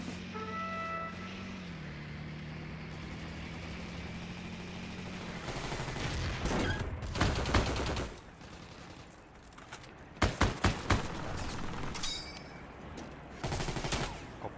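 Gunfire from an M1 Garand and other weapons in the WWII shooter game Heroes & Generals: a steady engine-like drone, then several sharp bursts and a cluster of shots around the middle and end, mid-distance with no talk.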